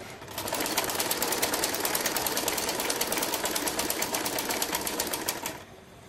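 A sewing machine stitches salwar panels in one fast, even run of rapid needle clatter lasting about five seconds, close and clear, then stops abruptly.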